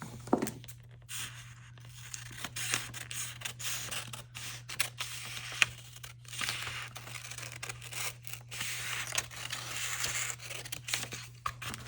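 Scissors snip through paper to cut out a cat shape for a black cat wine topper, giving quiet, irregular crisp cuts and rustles close by, with short pauses between snips and a steady low hum underneath.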